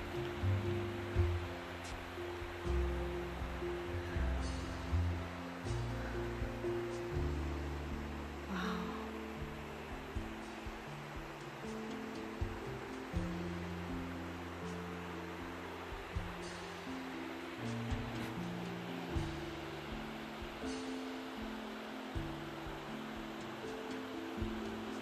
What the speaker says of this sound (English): I love just stopping and listening to the creek.